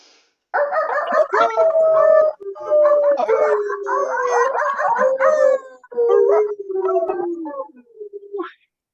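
A small pet dog howls in a long, wavering series of rising and falling cries, loud and close, with brief pauses between bursts and yips at the end.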